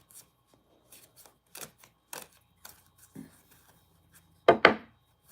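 Reading cards being shuffled, with scattered soft flicks and taps that end in two louder, close riffling snaps.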